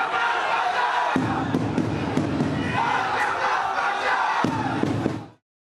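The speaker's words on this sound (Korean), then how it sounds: "입국장의 모습을 드러내자 야유와 고성이 쏟아집니다" A dense crowd of fans in an airport arrival hall boos and shouts loudly and continuously, with scattered thumps in the roar before it cuts off abruptly.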